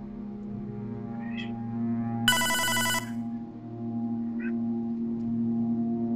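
A telephone rings in the video game Hotline Miami 2, a single bright burst of ringing lasting under a second over a steady low synth music bed.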